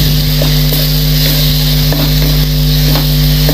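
Ground chili powder and spice masala sizzle in a pan while being sautéed for a green pea ghugni, a loud, steady frying hiss that runs without a break and without any voices.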